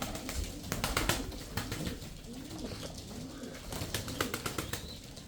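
Tumbler pigeons take off close by, their wings clapping in quick repeated bursts over soft cooing and a constant background hiss.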